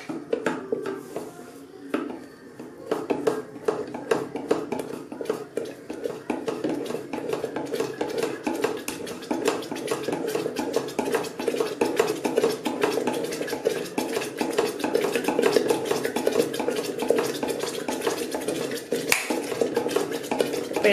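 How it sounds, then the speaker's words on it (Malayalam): A spoon scrapes and clinks steadily inside an electric kettle while thickening baby food boils. The stirring is close, continuous and rhythmic, with no talk over it. "കണ്ടിന്യൂസ് ആയിട്ട് ഇങ്ങനെ അത് ഇളക്കി കൊടുത്തോണ്ടിരിക്കണം"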